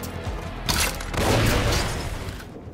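Gunfire and explosive booms from the saw launcher weapon in the video game Far Cry New Dawn, a dense, loud fusillade with a sharp burst near the middle and a trailing rumble.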